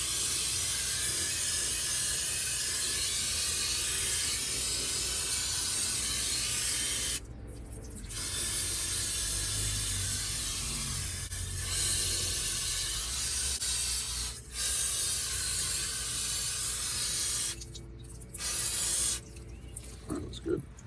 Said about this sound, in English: You spray it on the pan.